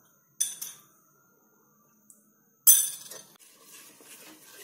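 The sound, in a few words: stirring milk with lemon juice in a pan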